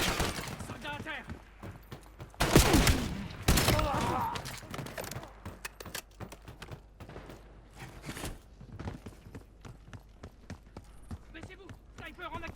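Sniper gunfire in the Call of Duty Black Ops 7 video game, with several sharp shots and a loud burst of fire, while battlefield noise and talk continue throughout.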